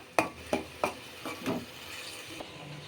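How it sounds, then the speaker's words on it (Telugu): A spoon stirring paneer masala curry in a pan, giving a few distinct scraping strokes with a light sizzle beneath, close and fairly quiet, fading toward the end. "ఇది మంచిగా కలుపుకుందాము"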